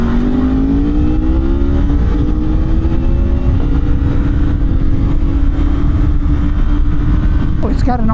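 A 2025 Suzuki GSX250R motorcycle engine revs steadily with a low rumble, its pitch climbing gradually then holding high, loud and close for several seconds, with a quick blip near the end.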